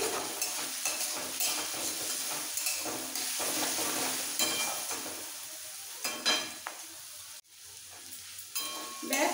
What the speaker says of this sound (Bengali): এই কুচনো পেঁয়াজটাও একটু নরম হওয়া পর্যন্ত তেলে নেড়ে চেড়ে নিতে হবে।